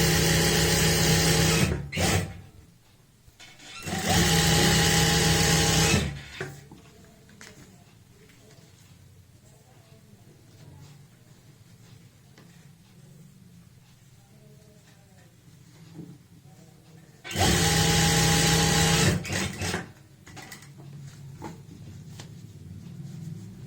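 An electric sewing machine stitches elastic into the waistband of palazzo pants in two loud, close bursts, one early and one near the end, with quieter handling sounds and a person talking in between.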